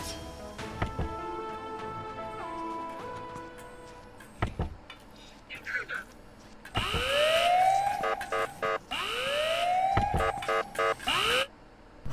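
Alarm siren in the Ice Scream horror game: rising, wailing sweeps repeat loudly over a busy background of game sounds and tones, with no voices.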